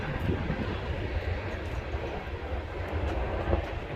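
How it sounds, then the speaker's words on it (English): A train rumbles past in a small town as a steady, continuous roar with faint clattering, heard moderately close and unbroken by speech. "And we got the train going here."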